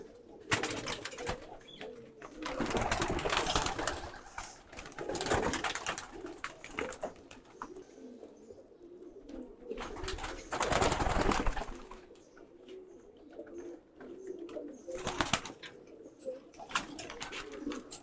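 Pigeons kept in a loft coo repeatedly in low, rolling calls that carry through the whole stretch, close by, with occasional bursts of louder rustling noise and no speech.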